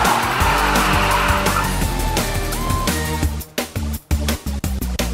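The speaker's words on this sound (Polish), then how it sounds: "Auto ostro przyspiesza" An Infiniti G37S sports coupe accelerates hard, its engine roaring loudly and climbing in pitch past 7,500 rpm before clipped, stuttering bursts as the throttle cuts in and out near the end.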